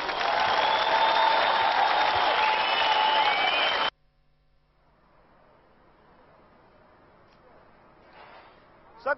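A crowd at a Georgian Dream political rally in Ozurgeti, Georgia, bursts into loud, sustained applause and ovation for nearly four seconds, which then cuts off abruptly to a faint, quiet background murmur.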